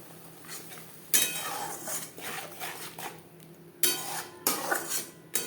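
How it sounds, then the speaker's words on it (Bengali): Salt, turmeric and spices stirred in a pan for omelette curry: a metal spoon scrapes and clinks against the pan in several separate bursts, with quiet pauses between strokes. "লবণ হলুদ মশলার সাথে বেশ ভালো করে মিক্সড করে দেব"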